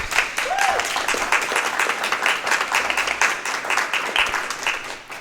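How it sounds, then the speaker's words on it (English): An audience at a poetry book event claps steadily, with dense overlapping applause that continues for several seconds before beginning to thin out. "I was hoping we could just give him a round of applause as well."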